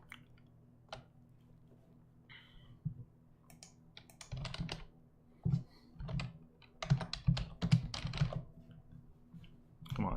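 Typing on a bilingual computer keyboard: sparse isolated key clicks at first, then denser bursts of close, crisp keystrokes and clacks in a quiet room, with no speech.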